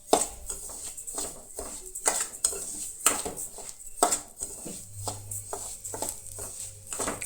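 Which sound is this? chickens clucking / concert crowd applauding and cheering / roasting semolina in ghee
roasting semolina in ghee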